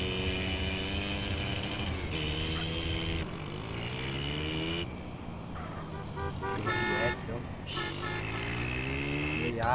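Modified car in GTA San Andreas revving and accelerating hard through the gears, a loud steady engine whine rising and falling in pitch under someone talking.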